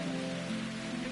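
Rain falls in the game Root Letter, a steady even hiss of drops on surfaces, continuous and fairly loud with no voices over it.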